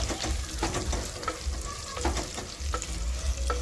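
Garlic and dried red chillies fry in a pan, a close, busy sizzle under repeated rhythmic stirring strokes and scrapes of a spatula.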